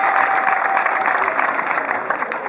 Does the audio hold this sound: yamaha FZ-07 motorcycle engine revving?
no